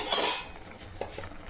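Shukto, a Bengali vegetable dish, stirred in a pan as it simmers, with a brief bright scraping burst followed by a few soft utensil knocks against the pan, fairly quiet overall.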